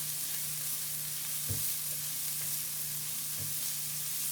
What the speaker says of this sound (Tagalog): igisa na natin yung sibuyas. Sunod naman yung bawang.